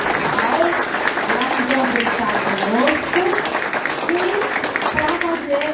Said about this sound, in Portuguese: pode ser recebido aí, jogando com muitas palmas para o nosso